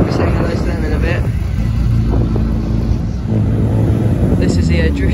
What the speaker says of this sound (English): This is the drifty BMW that we saw.